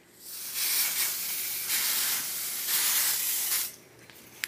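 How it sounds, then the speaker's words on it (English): An aerosol spray can hisses onto quilt batting in several steady bursts of a few seconds each, close and fairly loud, with brief pauses between them and no talk. "we're gonna go ahead and spray just a light spray"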